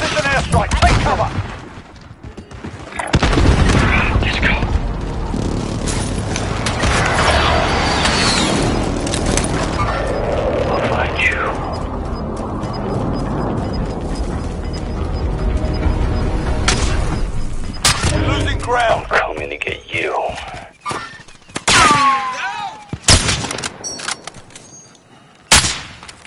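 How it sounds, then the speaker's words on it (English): Precision airstrike explosions in Warzone crash in as a long run of loud booming blasts and rumbling fire, fading into scattered gunshots and sharp cracks toward the end. "Enemy precision airstrike! Take cover!"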